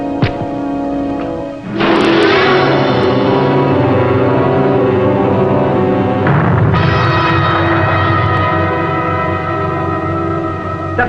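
A submarine's torpedo striking its target in a deep, booming wartime explosion that swells suddenly and rolls on, with a second surge of rumbling blast a few seconds later, loud and resonant.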